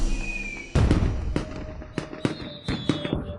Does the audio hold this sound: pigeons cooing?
no